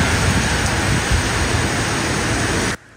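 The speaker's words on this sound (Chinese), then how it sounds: "大雨又快又急" Heavy rain pours down during an outdoor football game, a dense, steady roar of falling water that holds constant and loud before cutting off abruptly near the end.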